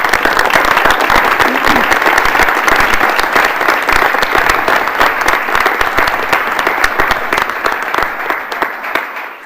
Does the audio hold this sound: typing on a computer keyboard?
no